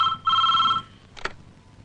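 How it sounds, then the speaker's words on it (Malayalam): An old telephone rings in two short electronic bursts, the second one longer, followed by a brief knock or click as the handset is picked up. "ഫോണിൽ കൂപ്പിടാ. Hello hello Ponnappan,"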